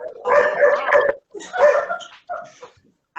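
Dogs in a home yip and whimper in short, excited bursts with gaps between them, close and fairly loud.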